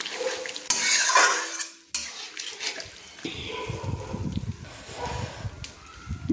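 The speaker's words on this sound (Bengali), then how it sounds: "দিয়ে আমি ভালো করে নেড়ে নিলাম।" Chicken for a cabbage chicken curry is stirred in a pot after its marinade water goes in: close metallic clatter and scraping of a spoon against the pot, with wet sloshing and a brief pause partway.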